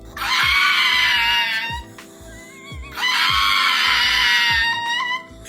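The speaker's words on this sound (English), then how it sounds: "Dogs screaming." Dog screaming in a short TikTok clip, two long, loud, shrill human-like screams separated by a brief pause, over a steady thumping beat.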